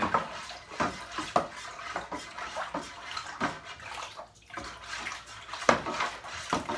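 Water is poured and sloshed into a container for a pumpkin whiskey mash, with splashing pulses, clinks of a vessel and gentle gurgling, close and moderately quiet.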